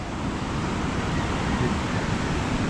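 Large ocean waves wash onto a shore under a darkening, stormy sky, making a steady, loud broadband roar of surf that fills the whole stretch without clear breaks, mixed with wind.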